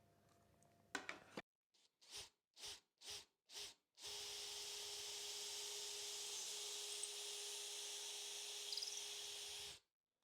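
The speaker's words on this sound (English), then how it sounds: "I'll just drill 3 straight holes directly through the guitar" A few short drill bursts are followed by a long, steady whine of a power drill boring straight through the wooden body of an electric guitar, then it stops abruptly.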